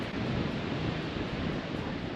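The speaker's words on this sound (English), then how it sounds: "those big rolling swell, big waves are not what I wanted to see" Big rolling ocean swell breaking on the Cornish coast of the Lizard, a dense continuous roar of surf mixed with wind buffeting the microphone, loud and unbroken throughout.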